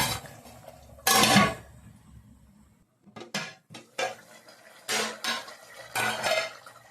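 A metal lid goes onto a cooking pot of chicken curry, with a loud clatter followed by several shorter knocks and scrapes of pots and utensils nearby, no speech.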